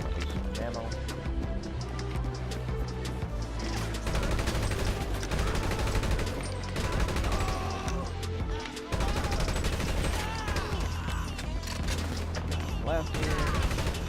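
Video game gunfire, with rapid bursts and repeated shots rattling continuously through the clip over a dense game soundtrack, while a player talks over it.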